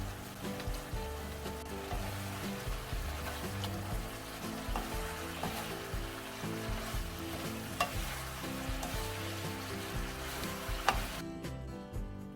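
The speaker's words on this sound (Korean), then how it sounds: "마지막으로 물엿을 넣어서 살짝 더 볶아줍니다." Pork belly stir-fries with scallions, red chili and syrup at a constant loud sizzle as a spatula clatters and scrapes around the pan throughout.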